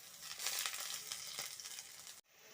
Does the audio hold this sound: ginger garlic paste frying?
yes